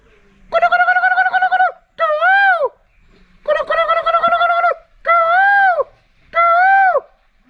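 A person imitating a koel's call, five loud, close, tonal hoots in a repeating pattern separated by short pauses.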